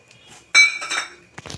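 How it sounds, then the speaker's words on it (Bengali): A lid goes onto a cooking pot of crab and potato curry, a sharp metallic clank followed by a brief ringing rattle, then a couple of lighter clinks. "ঢাকাটা দিয়ে দেবো"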